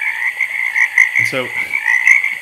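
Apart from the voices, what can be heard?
frogs croaking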